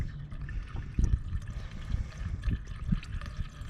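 Seafoam additive poured into the engine of a 2002 Volkswagen VR6 Eurovan, a soft, uneven gurgling trickle of liquid with small splashy pulses, close and fairly quiet.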